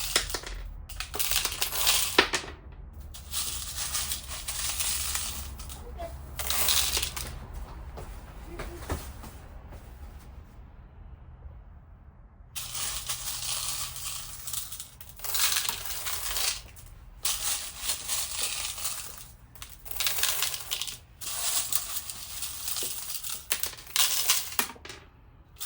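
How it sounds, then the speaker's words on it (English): Ceramic tumbling media is poured into a rock tumbler barrel, giving bursts of dense, clattering rattles and crunchy clinks that start and stop repeatedly, with a quieter pause midway. "So now I'm going to take some ceramic media and add into the barrel."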